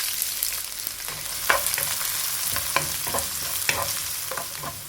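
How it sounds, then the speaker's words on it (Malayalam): Chopped small onions (shallots) frying with fennel seeds in a pan for Kerala squid pepper masala, a steady broadband sizzle with repeated scraping stir clicks, close and continuous with no talking. "ഇതിലേക്ക് 1 കപ്പോളം ചെറിയ ഉള്ളി ചെറുതാക്കി കട്ട് ചെയ്തത് ഇട്ട് കൊടുക്കുക."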